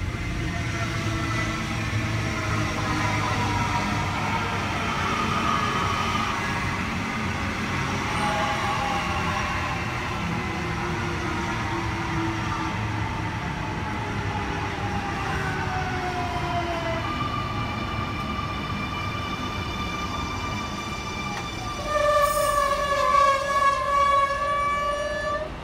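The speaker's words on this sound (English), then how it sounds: "At Cabramatta, we have a Liverpool service arriving into platform number 2." A Sydney Trains Liverpool service, led by set M4, pulls into platform 2 at Cabramatta station with a steady low rumble and rising squealing tones. Sharp tonal squeals sound near the end, with no talk.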